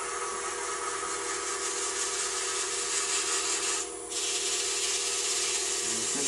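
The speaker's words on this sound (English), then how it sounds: "just a little strip of sandpaper. This is 150 grit, and just a matter of holding it up against there." A strip of 150-grit sandpaper is held against a wooden bottle stopper spinning on a lathe, making a continuous close, loud hiss and rasp over the hum of the lathe, with one short break in the middle.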